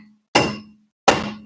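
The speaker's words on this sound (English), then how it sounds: "You literally hammer to the 3 spokes as hard as you can" A dead blow hammer strikes wheel spokes twice, each blow a loud, sharp, close thwack with a brief ringing decay, spaced about three-quarters of a second apart.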